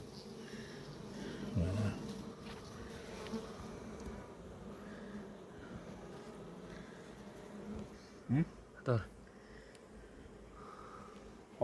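Honeybees buzzing steadily at an opened hive during beekeeping work, a continuous low drone with a few louder buzzes passing close by near the end.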